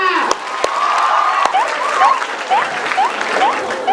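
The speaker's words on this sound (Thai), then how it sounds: "ขอเสียงปรบมือต้อนรับน้องเคเคและน้อง อ้วนค่ะ" A crowd applauds loudly and continuously, with repeated rising whoops and whistles cutting through the clapping.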